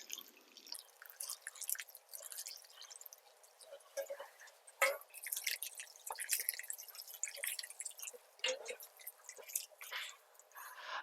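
Water trickles down from freshly watered potted pepper plants into catch containers below, making faint, irregular drips and soft splashes that run throughout at a quiet level.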